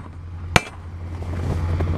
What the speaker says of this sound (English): So I usually take a hammer and I smack them right here